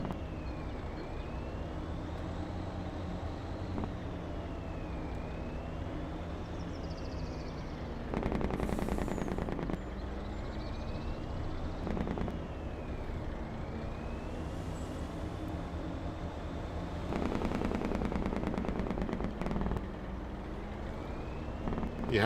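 A truck's engine brake in Farming Simulator 25 under a steady engine drone, breaking into loud, rapid, rattling bursts twice, each lasting a couple of seconds.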